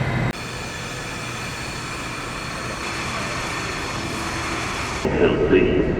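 Low steady rumble and hum of a train at a station platform on a German rail line, constant and moderately loud, with a brief louder burst of noise near the end.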